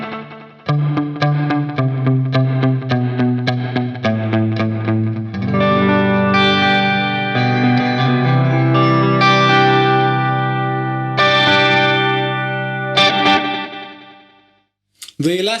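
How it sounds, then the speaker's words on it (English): Electric guitar runs through a Mad Professor Kosmos pedal on its room reverb and multi-head delay setting, producing picked notes and ringing chords with trailing echoes and ambience, loud and continuous, with a brief dip near the end and no talking. "The next reverb program is called RM, which stands for room reverb and multi-head delay."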